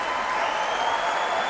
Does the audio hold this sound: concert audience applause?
yes